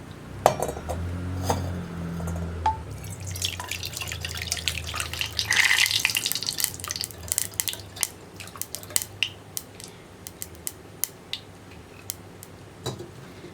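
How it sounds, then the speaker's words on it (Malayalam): A mashed tomato and tamarind rasam mixture is strained through a coarse-mesh sieve, giving quiet close-up clinks of a utensil against the strainer and soft drips of liquid. "കുറച്ച് കണ്ണി അകലുള്ള അരിപ്പ് യൂസ് ചെയ്തിട്ട് അരിച്ചെടുക്കുക"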